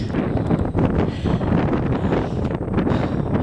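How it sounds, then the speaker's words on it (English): Steady wind buffets the microphone on a mountain trail between Cadillac Mountain and Dorr Mountain, a continuous loud rumbling roar with gusty fluctuations and no talking. "Again, forgive the wind."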